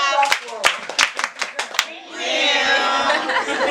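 A group performs a short clapping routine at a reading marathon session, a run of sharp hand claps followed by a buzzy, sustained hum from many voices that mimics a mosquito, with some chatter and chuckling.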